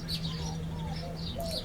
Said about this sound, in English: You can hear the birds. Lots of birds today.